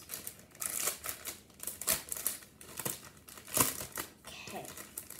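A plastic bag is torn open and handled, giving bursts of close, loud crinkling and rustling with sharp crackles throughout, in a sequence of uneven bursts.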